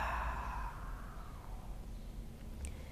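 A soft, breathy exhale through the mouth during a yoga breathing exercise, a gentle airy sigh that fades over a few seconds, close and quiet.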